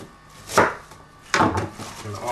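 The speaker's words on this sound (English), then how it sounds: "I'm only putting one onion in, so kind of see how I cut that" A knife chops through a brown onion on a board, two distinct sharp cuts about three-quarters of a second apart, each followed by a short scraping tail. The cuts are close, with no talking.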